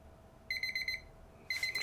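Timer alarm in the Fallout 4 video game beeping in two quick bursts of rapid electronic pulses, bright and close over a low background hum, with no talk.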